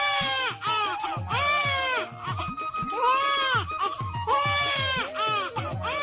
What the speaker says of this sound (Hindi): कुछ ही देर की पीड़ा के बाद बच्चे के रोने की आवाज आती है।